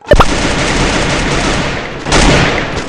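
Gunfire in the video game Free Fire comes as loud, close bursts: a few sharp shots at the start, then a dense, sustained rattle of rapid fire, with another burst near the end.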